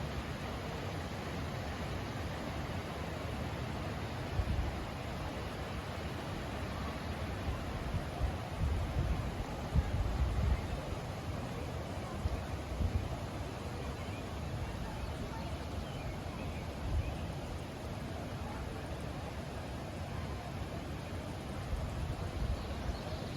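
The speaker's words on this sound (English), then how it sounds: "I don't know if you guys can hear the water in the background, but it sounds so relaxing." Creek water flows through Oak Creek Canyon near Sedona, Arizona, a steady, soft rushing hiss in the background that holds evenly throughout, with a few faint bumps and rustles.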